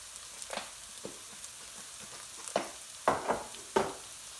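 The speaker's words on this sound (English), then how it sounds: "what I'm looking to do here is just for the onions just to soften a little bit." Onions softening in a pan for restaurant-style garlic chilli fried rice, a faint low sizzle under a few louder scraping stirs toward the end.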